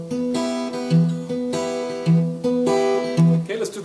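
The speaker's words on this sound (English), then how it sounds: "We're using 3 fingers to pluck the string, the first, second, third string." Acoustic guitar fingerpicked in 3/4 time, thumb striking a bass note and three fingers plucking the first, second and third strings, repeating in a steady rolling pattern, close and clear with no talking.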